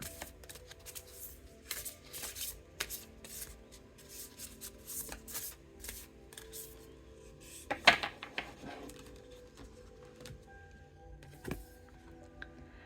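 Cards are shuffled for a card reading in a quiet room, with repeated soft riffling and rubbing bursts and a few sharper snaps, close and faint.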